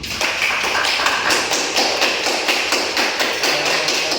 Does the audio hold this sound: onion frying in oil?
no